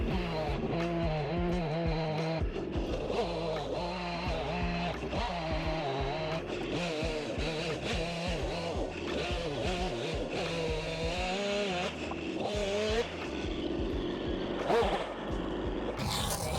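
Chainsaw mill cutting a log into lumber, guided along a long 2x4 reference surface outdoors; a steady, loud engine drone that wavers in pitch as the chain bites, running continuously throughout with no clear talk.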